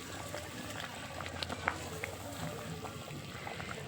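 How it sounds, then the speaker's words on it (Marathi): Chilapi fish curry simmers in a pot over a wood-fired stove, soft bubbling and small pops at low volume, with no voices. "छान रस्सा उकळला आहे"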